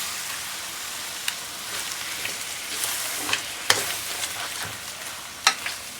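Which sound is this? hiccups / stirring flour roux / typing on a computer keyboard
stirring flour roux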